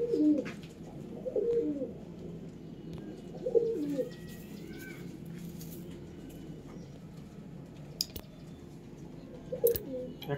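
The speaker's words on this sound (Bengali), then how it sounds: "দেখুন এই সবুজ অন্ধ্রা পায়রা" Green Andhra pigeons in a home breeding loft coo in a few scattered soft phrases, moderately near, over a low steady background hum with faint chirps.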